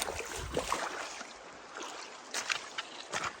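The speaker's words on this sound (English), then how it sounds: "We've been getting lucky with these creek crossings." Feet wading through a shin-deep creek on a trail hike, near splashing and sloshing steps with gurgling water, irregular rhythm, no voices.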